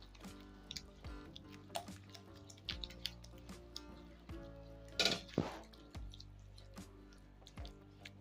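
About two spoonfuls of water go into onion-based masala gravy in a pan while cooking cauliflower and potato curry, giving quiet drips and a small splash among light metallic clinks of spoon against pan, with no talking.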